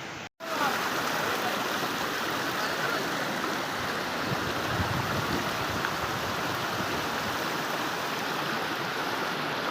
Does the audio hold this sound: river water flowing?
yes